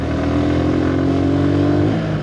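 Motorcycles race and overtake each other on an open road, one engine close and loud with a sustained revving tone that holds steady, then dips slightly near the end.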